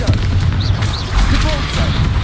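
A Confringo spell blast in the Hogwarts Legacy video game, heard as short, punchy low booms with brief whooshing tones over busy game noise, all packed into a couple of seconds.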